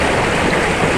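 Water flowing in a city stream, the Córrego dos Tucanos: a steady, close, even rushing and gurgling that runs unbroken through the short stretch, with no voices.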